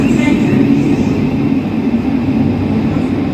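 A Class 707 City Beam electric train runs steadily through a station near Erith, giving a continuous loud low rumble and hum with no clear breaks.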